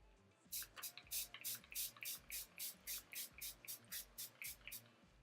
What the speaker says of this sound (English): And I'm using my new setting spray